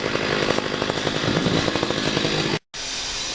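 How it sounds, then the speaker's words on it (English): Saws cutting rock to extract minerals at an outdoor rockhound gathering make a continuous, loud, chainsaw-like buzzing drone that cuts out for a split second near the end before resuming, with no speech. "You can hear the saws going in the background."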